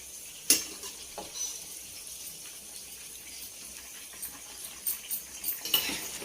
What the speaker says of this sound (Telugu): డీప్ ఫ్రై చేద్దాం.